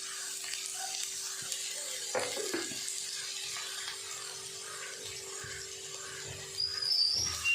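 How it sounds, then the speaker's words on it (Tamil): Onions frying with a little salt in a pan for a home-style chicken curry give a steady, soft sizzle throughout, with occasional stirring scrapes and a brief water-like splash near the end, with no talking. "வெங்காயம் சீக்கிரம் வதங்கிறதுக்கு கொஞ்சம் சால்ட்டு போட்டுக்கோங்க."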